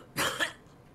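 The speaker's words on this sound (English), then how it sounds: "I heard Okita begin to cough" The character Okita coughs in the video game Hakuoki: Kyoto Winds, a single short, breathy cough heard close and alone.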